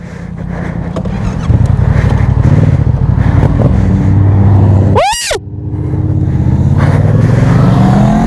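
A Lamborghini sports car drives close by on a road, its loud, steady engine roar filling the scene, while a motorcycle rider follows; one brief sharp rising whine cuts through midway before the engine drone resumes.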